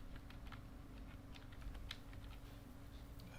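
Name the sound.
typing on a computer keyboard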